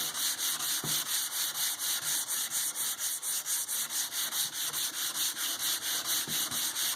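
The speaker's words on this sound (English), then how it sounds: "just 220 on a sanding sponge. Hand sand, or you hit it with your orbital sander" Steady rhythmic scratchy rubbing of a 220-grit sanding sponge hand-sanding curly maple, even back-and-forth strokes repeating throughout, close up and alone.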